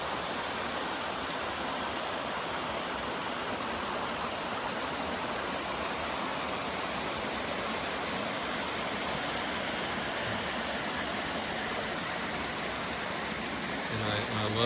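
Oglesby Branch, a flowing Appalachian mountain stream in March, gives a steady broadband rush of water, continuous and even at moderate level, heard close with no interruptions.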